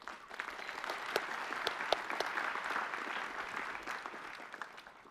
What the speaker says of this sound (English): give each other all a round of applause